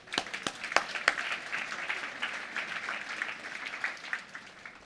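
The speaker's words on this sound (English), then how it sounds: "let's give them a round of applause." An audience applauds as a panel walks onto a stage, with moderate, steady clapping from a crowd at some distance and a few sharper claps near the start.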